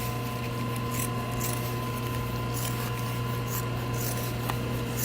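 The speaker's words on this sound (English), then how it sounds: "Trim your seam." Scissors snip and rasp along the seam allowance of a sewn headrest, a few close, scratchy cuts over a steady low machine hum, with no voices.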